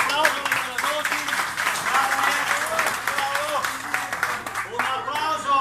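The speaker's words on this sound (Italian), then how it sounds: "Che dite, un applauso alla tenuta Dosi?" Sustained audience applause at an outdoor folk music event at a wine estate, steady dense clapping throughout with voices and cheering mixed in above it.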